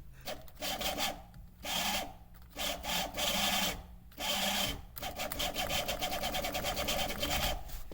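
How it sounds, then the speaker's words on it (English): Front windshield washer squirter on a car running after headlight switch and wiper stalk repair: a loud, rough buzzing pump drone in repeated pulses with brief gaps, then a steady continuous run, close to the microphone. "that's a fun noise. It's supposed to be the front windshield squirter"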